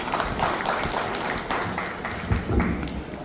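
Crowd applause at a martial arts association inauguration ceremony, steady dense clapping from many people throughout, moderately loud with a few sharper claps near the end.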